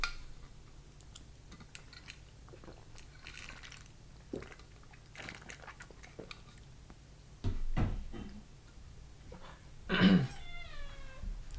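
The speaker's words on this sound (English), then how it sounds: "Here's a cat." A cat meows a few times in a quiet room, with one loud close meow near the end among faint rustles and soft knocks.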